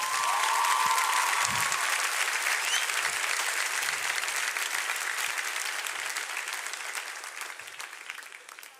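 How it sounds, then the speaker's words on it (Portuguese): Applause from a church congregation during a Portuguese-language sermon, a dense, steady wash of many hands clapping that starts loud and slowly fades over several seconds, with no talking over it. "Você pode aplaudir ao Senhor?"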